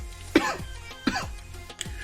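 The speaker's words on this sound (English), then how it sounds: "Sorry about all the coughing." Three sharp coughs from someone with allergies, spaced about three-quarters of a second apart, close and fairly loud in a quiet room with faint low hum.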